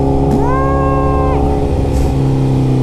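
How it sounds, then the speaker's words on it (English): A 2008 Honda CBR 1000RR sportbike revs up sharply on a cold, salty street before a burnout, the engine note climbing and holding briefly, then dropping back to a loud, rumbling idle. "do a little burnout."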